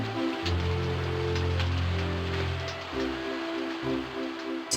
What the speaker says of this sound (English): all of a sudden it began to rain